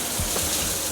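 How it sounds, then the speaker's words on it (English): Water pours onto hair washed with Fenty Hair The Rich One Moisture Repair Shampoo during wash day, a brief close, steady gushing rush with no voices. "Just a little bit of water to see if that helps to activate it."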